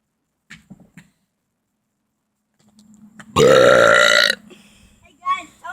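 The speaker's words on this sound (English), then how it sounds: "And I do burps like..." A loud, drawn-out burp of about a second, forced on purpose, rises abruptly after a stretch of quiet with a few faint sounds before it; brief voice sounds follow.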